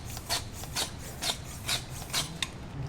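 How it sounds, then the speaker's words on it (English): A coolant pressure tester being pumped on the radiator of a Honda CRX, six even rasping strokes about half a second apart, close and clear with no talk. "you pop one of these caps on, and you just pressurize the system"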